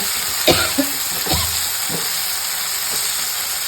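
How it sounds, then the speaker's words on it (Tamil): Ingredients frying in oil for a chickpea kuzhambu give a steady close sizzle and hiss, with a few soft stirring scrapes early on and no speech. "என்ன இன்க்ரீடியன்ட் இருக்கோ அதை எண்ணெயில் போட்டு கொஞ்சம் நேரம் ஃப்ரை பண்ணியாச்சு"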